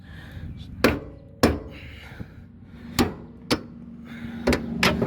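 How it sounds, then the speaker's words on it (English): Heavy metal whacks from a hammer on a car control arm, five or six sharp blows spaced irregularly, ringing close over low background noise with no speech. "give it a couple of whacks, it should come off."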